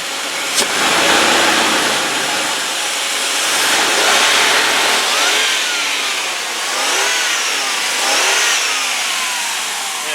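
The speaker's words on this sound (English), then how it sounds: "let me see if I can rev it up for you" A 2001 Dodge Durango engine revs up and down several times, rising and falling pitch over a steady idle, loud and close.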